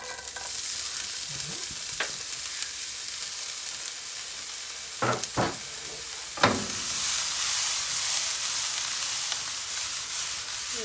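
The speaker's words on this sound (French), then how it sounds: "Là, je fais revenir notre oignon." A single onion sautéing in a pan for stuffed mushroom toasts, a steady sizzle running throughout with a few sharp scraping stirs midway and near the end, close and fairly loud with no talking.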